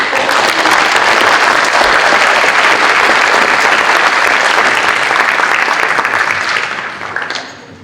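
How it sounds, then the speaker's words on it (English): Audience at a middle school academic honors ceremony applauding, a loud, steady, dense clapping that holds for several seconds before tapering off at the end. "One big round of applause for"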